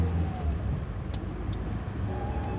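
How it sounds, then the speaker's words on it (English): A car cruising along a road in the mobile game The White Door, with a steady low engine rumble and road noise that stays even and close, no voices over it. "I was driving to work"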